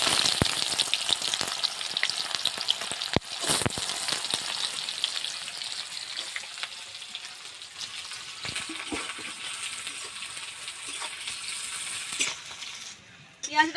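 Chopped onions frying in hot oil for a mutton curry, a dense continuous sizzle close by with a few sharp clatters of stirring.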